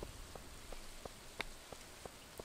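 Rain falls in a farming video game as a faint, steady patter, with soft droplet ticks landing at a regular rhythm about every third of a second.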